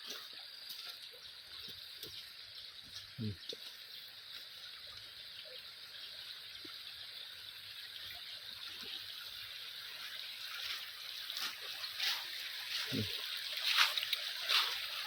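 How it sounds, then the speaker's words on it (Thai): Fast-flowing stream at Huai Nam Duk in Lom Sak, running strong during a forest flood, a steady rushing hiss of water with a few soft knocks and splashes, swelling slightly louder toward the end. "นี่ไหลไหลเชี่ยวนะเนี่ย ไหลแรงนะเนี่ยตรงเนี้ย"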